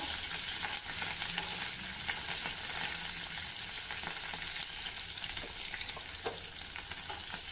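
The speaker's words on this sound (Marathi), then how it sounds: "थोडे फिक्या हिरव्या मिरचीचे तुकडे घालणार आहे" Pale green chilli pieces frying in a tempering for a fasting chutney, a dense, steady hiss and crackle close up, with occasional stirring taps and no talk.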